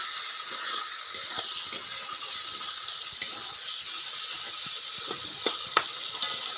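Onions frying in oil give off a steady close hiss of sizzling, broken by a few sharp pops and crackles scattered through.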